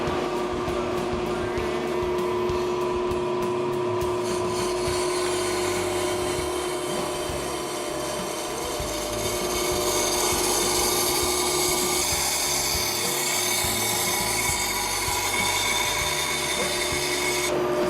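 A brake lathe makes a slow cut across a brake rotor, giving a steady, close, continuous whine with a high ringing metallic tone and a low mechanical hum underneath.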